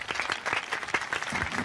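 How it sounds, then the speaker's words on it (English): A brief burst of full audience applause at a Class of 2024 high school commencement: many hands clapping at once, dense and close, with no speech over it. "Round of applause."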